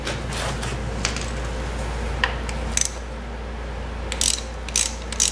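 Ratchet clicking in short bursts as a 17 mm socket loosens the oil drain plug on a 2004 Yamaha FZ6 motorcycle, the crisp pawl clicks coming in a few close bursts over a steady low background hum.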